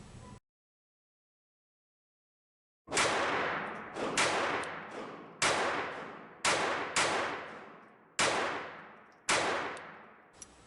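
An Armi Galesi 503-B pistol firing .22 Long rounds at a target 18 feet away: about eight sharp, loud cracks with ringing tails, spaced roughly a second apart after a short silence.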